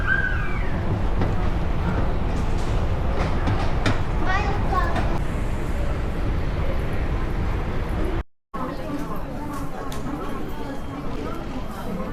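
A Japanese limited express train runs with a continuous rolling rumble beneath an onboard chime and nearby voices, and the sound briefly cuts out near the eight-second mark.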